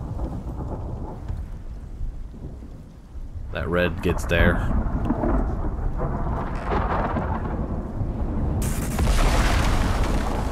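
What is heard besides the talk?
thunderstorm in video game Icarus New Frontiers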